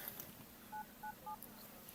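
Telephone keypad dialing tones, three short beeps in quick succession, faint against a steady low room hum, with no talking during the tones.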